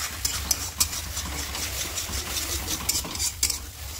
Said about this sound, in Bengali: ঘুরি ভাজা করে নেবো।